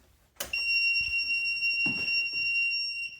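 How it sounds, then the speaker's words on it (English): A DeerRun walking pad treadmill's shrill electronic beep sounds steadily for about three seconds when turned on, loud and piercing, with a couple of soft clunks underneath. "this really annoying beep when you turn it on"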